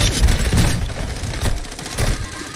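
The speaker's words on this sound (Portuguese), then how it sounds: "Dois tiros, Ed." Gunfire in a video game during a live Brazilian gaming stream: dense, loud bursts of crackling shots and impacts follow one another without pause, filling the whole clip.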